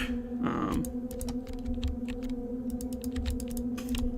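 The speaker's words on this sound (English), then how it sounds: "That's a lot of clicking." Rapid computer keyboard and mouse clicking during a horror game session, a steady run of sharp close clicks over a constant low electronic hum.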